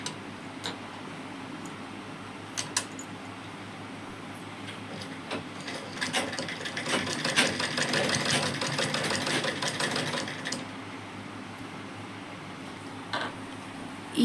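Sewing machine stitching a lacha blouse, running in a steady mechanical whir that swells louder for several seconds mid-clip among softer ticks and pauses, with no talking.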